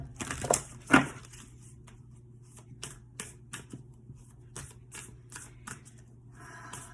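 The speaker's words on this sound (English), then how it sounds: "I'm going to pull one of these cards to end this reading." A deck of cards is shuffled in crisp riffling bursts, then individual cards are pulled and flicked in a series of sharp, close snaps during a tarot reading.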